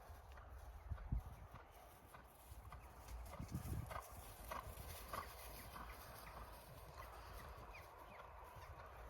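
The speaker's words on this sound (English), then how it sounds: "Now go large and keep that canter." Miniature Shetland pony cantering around a field, soft rhythmic hoofbeats on ground heard at moderate distance amid outdoor background noise.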